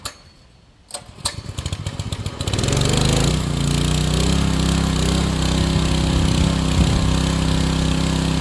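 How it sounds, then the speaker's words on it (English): A gas pressure washer feeding a sandblaster starts after a few pulls and clacks, then settles into a loud, steady engine drone with a constant hiss, running close by. "I'll have the pressure washer noise in the background"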